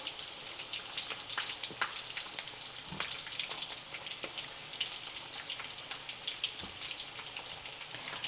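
Pieces of Haitian turkey fry in hot oil, a steady bright crackling sizzle with dense popping bubbles and a few soft utensil knocks, close and continuous without talk.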